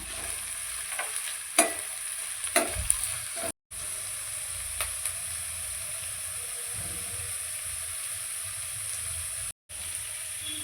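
Chopped onion and four green chillies frying in a pan, a continuous bright sizzle broken by several sharp scrapes and taps of the stirring spoon early on, no voices.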